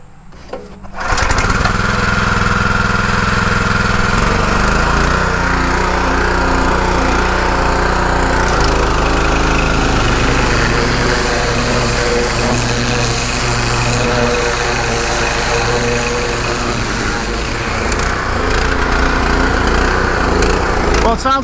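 A gas-powered pressure washer engine with a rebuilt Annovi Reverberi XMV3G25D pump starts after a brief pause and runs loud and close, with a continuous buzzing drone that wavers slightly as it keeps going.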